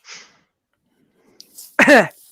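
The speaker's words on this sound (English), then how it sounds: "Elbow cough." A single sharp, close cough after a brief soft exhale, then quiet.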